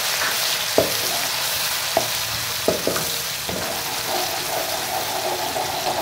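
Sliced onion fries in hot oil in a pan for a mixed vegetable sabzi, a steady close sizzle with a few sharp clacks of a utensil against the pan and no talking.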